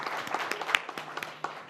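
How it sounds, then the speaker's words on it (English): Audience applause at an Indo-Japan conclave hall, a steady wash of many hands clapping at moderate volume with a few sharper individual claps standing out. "Warm round of applause, ladies and gentlemen."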